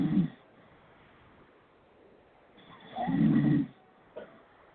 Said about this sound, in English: Is this asshole snoring? He fell asleep?